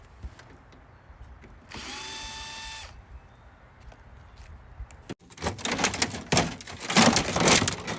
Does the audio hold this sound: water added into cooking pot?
no